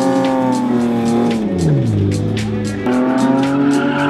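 A car spinning at a Western Cape spin event, engine roaring loud and close while tires squeal continuously, pitch dipping as it swings round then climbing again.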